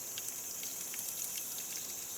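Water drains into Hinkson Creek on Bluff Dale Drive in Columbia, Missouri, with a faint, continuous trickle and a few light splashy drips heard from close by.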